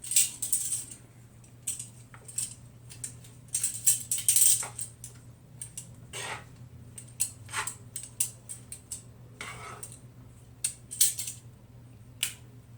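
Zucchini noodles and vegetables sprinkled with cayenne are mixed in a pan, giving scattered light clinks, taps and scrapes of a utensil over a low steady hum, without speech.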